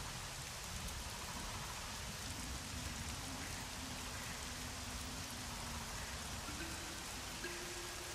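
Steady rain falls in the Myst V: End of Ages game world, a constant dense hiss that runs unbroken throughout, with a faint low rumble and soft tonal hums drifting underneath.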